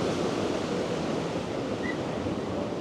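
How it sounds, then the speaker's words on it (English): Rough sea waves crash and wash continuously onto Swanage beach in Dorset, a steady broad roar of surf mixed with some wind, with no voices. "Look at those waves. Crashing."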